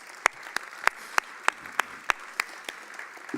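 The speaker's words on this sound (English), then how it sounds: "Let's give them a big round of applause." Slow, evenly spaced claps sound at a steady beat for a few seconds, thin and sparse rather than a full crowd, as a round of applause for zoning commissioners at a historic preservation and planning symposium.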